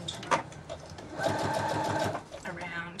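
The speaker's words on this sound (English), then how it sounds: "We're just going to do a straight stitch around" A domestic sewing machine runs a straight stitch on a notebook cover, a steady rapid mechanical whirr and clatter close by that stops and restarts briefly, with soft handling noise.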